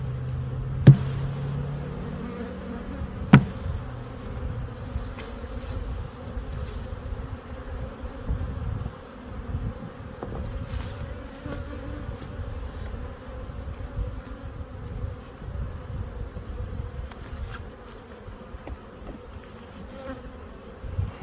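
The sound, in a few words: honey bees buzzing at an opened hive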